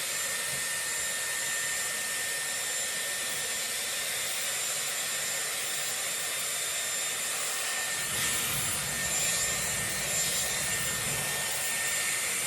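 Dyson Airwrap blow-drying hair on a round brush barrel: a steady, close broadband rush of airflow, with a whine that shifts and thickens around the eighth second as the tool moves through the hair, with no talk.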